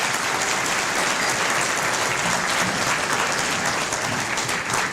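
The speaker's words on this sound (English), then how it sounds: "we'd like to ask for a round of applause for the St. Avex Music Department" Steady, dense applause from a sizable crowd at a chamber of commerce awards night, continuous and even for the whole stretch.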